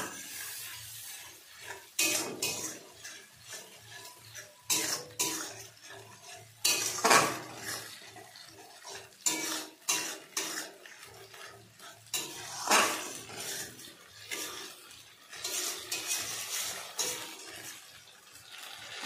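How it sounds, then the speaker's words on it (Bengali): Garlic paste fries in oil in a pan during meat cooking, a soft sizzle under repeated close spatula scrapes and stirring clatters coming in irregular bursts throughout. "রসুনটাকে ভালো করে ভেজে নিতে হবে।"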